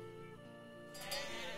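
A sheep bleats once in the village-building game Life is Feudal: Forest Village, a short nasal cry that rises near the end over a soft, steady game background.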